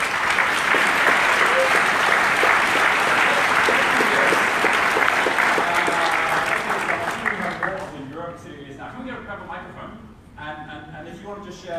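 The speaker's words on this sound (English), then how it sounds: "Can we give them a round of applause first of all?" An entrepreneur summit audience bursts into loud, dense applause that holds for several seconds, then thins to scattered claps as it fades.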